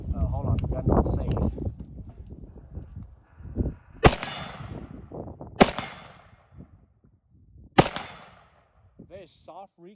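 Cetme Model L rifle in 5.56 NATO firing three sharp, loud single shots a second or two apart, each with a ringing outdoor decay, amid earlier handling noise and voices.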